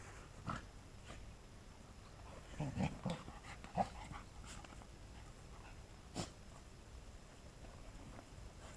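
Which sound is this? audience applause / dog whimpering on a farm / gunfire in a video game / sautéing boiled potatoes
dog whimpering on a farm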